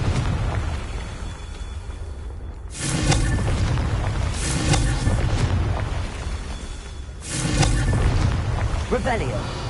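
Confringo fire spell explosions in Hogwarts Legacy, with loud booming blasts and fiery roars swelling over a dense, constant rumble of game sound, recurring several times, close and heavy.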